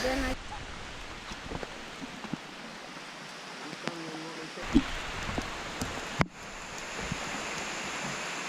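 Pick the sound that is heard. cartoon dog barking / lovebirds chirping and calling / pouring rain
pouring rain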